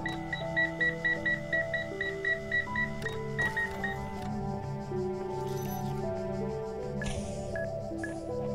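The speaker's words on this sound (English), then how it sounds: "All this beeping is making me very anxious." Repeated electronic beeping in the puzzle video game The Talos Principle, a steady pattern of short tones over layered synthetic game music and ambience, with no voices.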